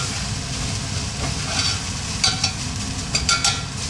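Food frying in a pan is stirred, a steady sizzle underneath with a few scraping, clinking utensil strokes toward the end, close and moderately loud, with no talking.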